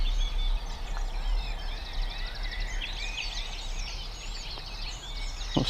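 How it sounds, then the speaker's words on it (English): Birds sing at dawn by Bosley Reservoir, a busy chorus of high chirps and trills carried over a steady low outdoor rumble, moderately distant and continuous. "Can you hear the birds singing?"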